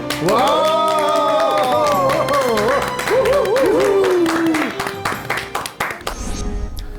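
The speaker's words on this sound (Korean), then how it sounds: "큰 박수로 맞아주시기 바랍니다" A studio audience claps to welcome a guest, a Korean medicine doctor and diabetes expert, with a brisk, continuous patter of applause running beneath a voice for most of the stretch and continuing alone after it stops.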